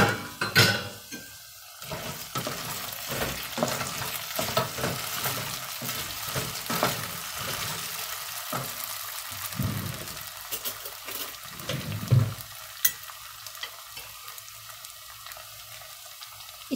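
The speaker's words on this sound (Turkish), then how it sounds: "Soğanla patatesle şöyle bir kavuruyorum." Onions and potatoes sautéing in a pot for an olive-oil green tomato dish, a steady sizzle broken by repeated scraping and clinking of a utensil stirring against the pot, with no talking.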